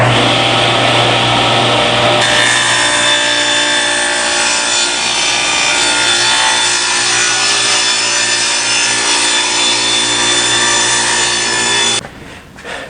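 A table saw cuts a kerf through a wooden table sled, a loud, steady whining roar sustained for about ten seconds before the blade spins down at the end, with no talking.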